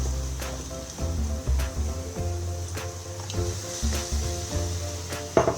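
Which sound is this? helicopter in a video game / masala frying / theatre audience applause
masala frying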